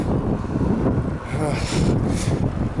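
Steady broadband headwind roar buffeting a microphone on a highway, loud and continuous, with a low rumble like road noise from a moving car.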